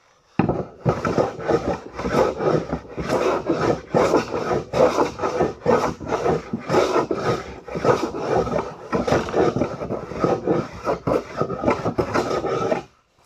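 A hand plane, a jack plane or jointer, takes very thin wood shavings off a bathroom vanity part in a steady series of close, rhythmic rasping strokes that continue without pause.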